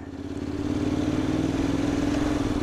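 A 2021 Honda X-ADV 750 scooter revs steadily and climbs in pitch as it accelerates through first to fourth gear, running loud and close with a buzzing, clattering tone and no talking.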